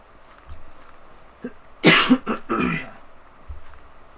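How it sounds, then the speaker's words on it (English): A person with a lingering cough coughs several times in a quick, close, loud cluster of harsh bursts, with faint quieter sounds before and after. "Hopefully I get over this cough here soon."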